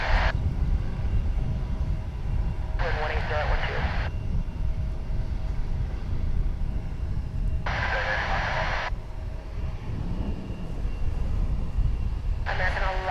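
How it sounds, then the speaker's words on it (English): An American Eagle Embraer 175 regional jet at Dallas/Fort Worth International Airport gives a steady, heavy rumble throughout, broken by several short bursts of radio chatter. "American Eagle Flight 3891, that Embraer 175 on its way to Omaha"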